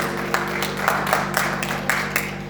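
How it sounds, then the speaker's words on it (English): A church congregation claps in praise for the choir, a steady rhythmic hand-clapping with sharp regular beats over a low hum, moderately near and unaccompanied by speech. "let's give the choir a hand clap"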